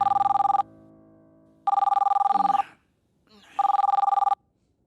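A telephone rings in three long electronic bursts separated by pauses, loud and close, with faint movement between rings.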